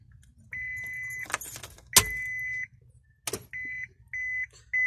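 Keys jangle and a diesel car's ignition is switched on, followed by a series of steady electronic warning beeps, some long and some short, in a quiet cabin.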